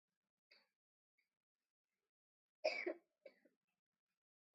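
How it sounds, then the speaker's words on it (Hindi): A person gives a few quiet, scattered coughs in a near-silent room, one stronger double cough in the middle and smaller throat sounds around it, faint and close by. "खांसी तुम्हें बहुत आ रही है"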